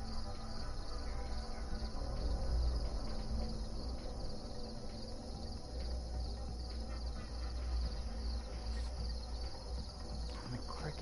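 Dense, loud chorus of crickets chirping continuously outdoors after rain, a high, steady trilling wall of sound with no pauses, close and unbroken throughout.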